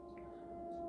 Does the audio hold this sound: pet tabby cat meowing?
no